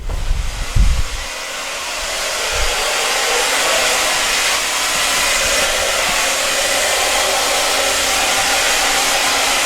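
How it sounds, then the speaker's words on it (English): A hair dryer blows on freshly cut hair during a skin-faded Ivy League haircut. A few low thumps come first, then a loud, steady rushing airflow runs close and unbroken to the end. "So I'm going to switch to drying the hair"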